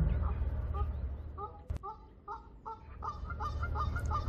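Geese honking at Prague Zoo, a run of nasal calls that starts sparse and grows more frequent, moderately near, over a low outdoor rumble.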